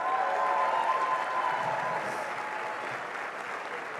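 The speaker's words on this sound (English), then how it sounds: "Let's give her another round of applause." An audience claps steadily at a college commencement ceremony, a dense, fairly faint round of applause that gradually tapers off.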